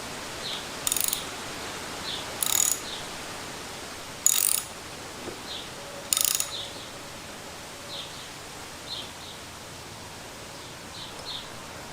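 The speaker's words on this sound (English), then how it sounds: "start threading it in like this using this wrench" A wrench with a 3/8 socket threads a Heli-Coil insert into a Harley-Davidson Springer handlebar riser, giving a few sharp, separated ratcheting clicks spaced a second or two apart over quiet room noise.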